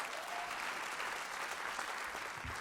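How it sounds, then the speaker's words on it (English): Sustained audience applause fills a comedy show venue in North Carolina, steady and broad throughout as a comedian is welcomed to the stage, with no clear talking over it. "keep your applause going"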